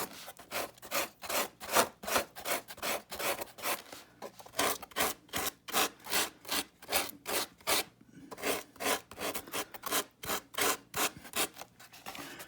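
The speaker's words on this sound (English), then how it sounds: "a hard piece of foam with some 40 grit wrapped around it" Hard foam block wrapped in 40-grit sandpaper rubbed over a Freewing Cougar RC jet's surface, making quick, even back-and-forth rasping strokes, about two per second, close and steady with no talk.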